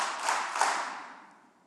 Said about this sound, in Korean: 박수 세 번요. 시작.